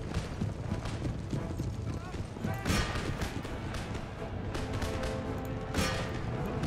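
Light horse cavalry charging into line infantry in Empire Total War, with steady galloping hoofbeats and clatter running throughout amid dense battle noise and scattered crashes.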